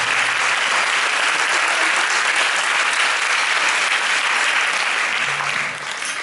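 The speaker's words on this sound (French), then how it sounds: "Et vous pouvez l'applaudir, je pense que ça vous a plu" A concert audience applauds young musicians of a junior mass band, with dense, loud, sustained clapping that fills the whole stretch and eases off slightly at the end.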